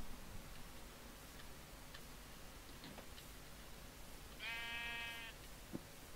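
A Minecraft sheep lets out one short, clear bleat partway through, set against faint game ambience with a few soft ticks and no talking.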